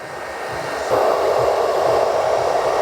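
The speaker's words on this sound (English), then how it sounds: "heat on a medium, and scrunch with the nozzle." A hair dryer on medium heat fitted with a diffuser nozzle, used while scrunching wavy men's hair, blows as a steady close whoosh that swells louder about a second in and then holds.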